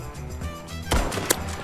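Gunfire in the Battlefield video game: a sharp broadband shot at about one second followed by a second crisp crack, set against steady game music and ambience.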